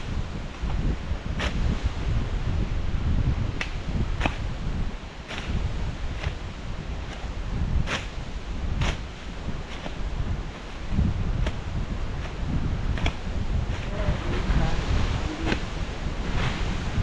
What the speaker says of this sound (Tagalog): Rinarinig ang hangin, lakas.